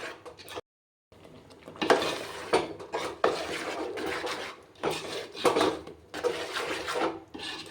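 A spoon scrapes and clinks against a pot while date payasam is stirred, coming in irregular bursts of close, moderately loud scraping with brief pauses between strokes.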